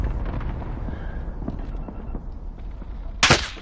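Gunfire cracks in an online shooter video game: muffled distant shots and rumble give way to a single sharp, loud nearby shot near the end.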